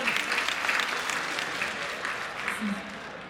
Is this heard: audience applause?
yes